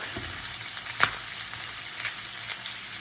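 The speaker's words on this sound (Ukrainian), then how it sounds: "цибульки треба сюди. І перемішуємо." Onions frying in a pan with chicken liver crackle and hiss at close range while a spoon stirs them, with one sharp scrape partway through.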